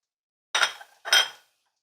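Two short metallic clinks sound close and fairly loud, about half a second apart, as garlic is added to a pan of melting butter while cooking chilli garlic prawns; no voices accompany them.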